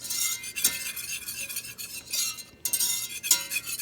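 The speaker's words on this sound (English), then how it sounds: "And I'm not burning it, I'm stirring it." A utensil stirs a flour paste in a pan for a mac and cheese sauce. It makes repeated close scraping and swishing strokes with faint clinks, broken by a brief pause, and no one speaks.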